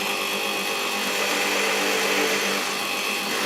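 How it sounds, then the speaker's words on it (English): A drill press bores a hole for brass inserts, a steady loud motor whine and cutting hum holding evenly throughout with no pauses. "just bring the drill down"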